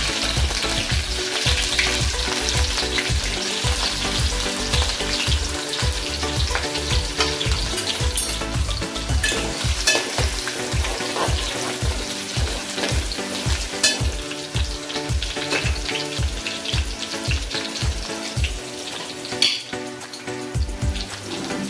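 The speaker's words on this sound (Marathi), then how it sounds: "आपण तेल गरम करत ठेवलेलं आहे नंतर तेलात जाणार लसूण हिरवी मिरची" Garlic and green chillies dropped into hot oil sizzle loudly and steadily, with dense crackling, popping bursts and occasional stirring scrapes close to the pan.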